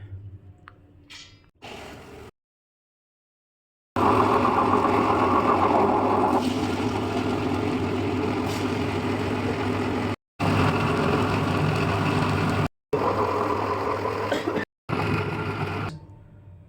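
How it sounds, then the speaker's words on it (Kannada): A wet grinder churning soaked lentils into smooth batter for masala dosa, a loud, continuous rumbling whir broken by a few abrupt cuts and brief silences. "ನಾವು ನೋಡಿ ನೆನೆಯಿಟ್ಟಂತಹ ಬೇಳೆ ಹಾಕ್ಕೊಂಡು ಫಸ್ಟು ರುಬ್ಕೊಳ್ಳೋಣ ನೈಸಾಗಿ"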